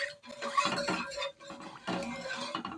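A pasta sauce with milk, flour and butter is stirred in a pan, with soft, close clinks and scrapes of a utensil against the pan in uneven bursts, quiet and without talk.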